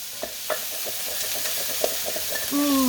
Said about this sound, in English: You give this a stir now